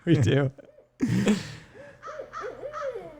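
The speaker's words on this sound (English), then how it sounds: "Barred owl, amazing vocals." A loud, close barred owl call: a burst of raucous, wavering cries followed by a short run of rising and falling hoots.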